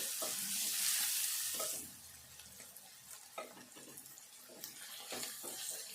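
Green chilies and spices fry in a pan for dal, a faint sizzle with a louder rushing burst near the start, then quieter crackle and occasional stirring taps, with no talk.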